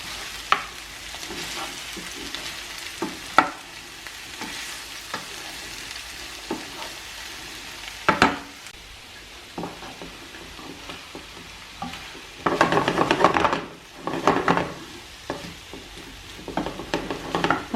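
Broccoli sizzles in a frying pan with turkey, with a steady fry hiss and repeated scraping stirs, loudest bursts of stirring near the end; no talking.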